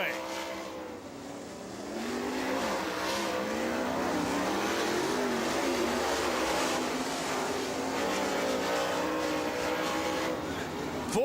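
Super late model race car at a speedway, engine roaring steadily as it runs down a long back straightaway, heard at a moderate distance under an announcer's voice.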